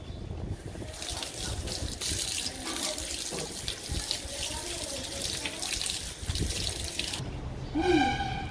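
Water runs steadily from a tap while hands are rinsed under it, a continuous close splashing flow with brief shifts in the stream, ending in a short squeaky rubbing sound.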